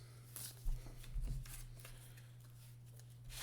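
Quiet, close rustles and snaps of playing cards being drawn during a Legendary deckbuilding card game, a few short shuffling bursts over a steady low hum.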